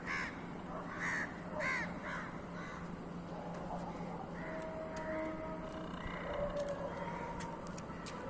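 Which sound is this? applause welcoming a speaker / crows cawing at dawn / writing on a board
crows cawing at dawn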